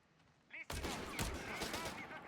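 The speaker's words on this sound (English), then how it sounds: "Taking small arms fire here." Small arms gunfire in Company of Heroes 3, a desert Afrika match, breaks out after a short quiet lead-in. It becomes a dense, continuous crackle of rapid shots with a few sharper bursts, loud and close.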